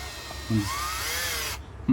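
An electric drill with a 1/8 bit bores into a broken bolt, spinning up into a high, rising whine that holds for about a second before cutting off, with short low knocks before and after.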